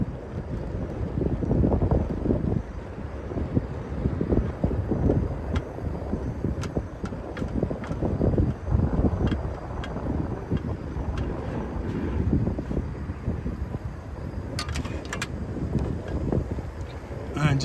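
Strong outdoor wind buffets the microphone continuously, a loud low rumble with gusts throughout, while a camp stove is set up for cooking in the open.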